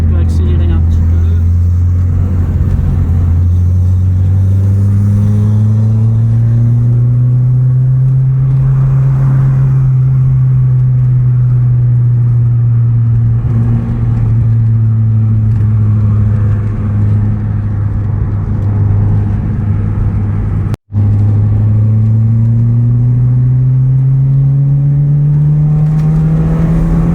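Peugeot 205 GTI engine pulling on a country road, a loud close drone that rises and falls in pitch as the car accelerates over long stretches, with voices talking over it.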